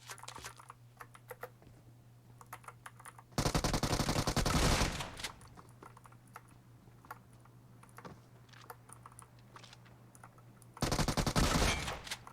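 DBS shotgun fire in a solo-versus-squad battle royale game: two loud, dense bursts of gunfire, each lasting over a second, separated by quieter game ambience with a steady low hum underneath.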